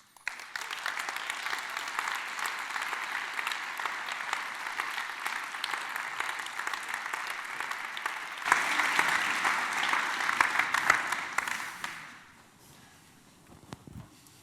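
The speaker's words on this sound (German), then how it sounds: "mit einem grossen Applaus auf der Park Arena Bühne" Sustained audience applause welcomes guests onto the Park Arena stage at a Swiss talk event, a steady dense clapping that swells louder midway before fading out into near quiet.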